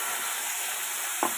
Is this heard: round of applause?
no